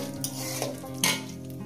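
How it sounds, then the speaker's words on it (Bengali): Cumin seeds and bay leaves frying in hot oil, a steady close sizzle with a couple of sharp spoon clinks and scrapes against the pan, no speech. "এই তেলে দিয়ে দেবো একটু জিরে, তেজপাতা, কয়েক সেকেন্ড ভেজে নেব।"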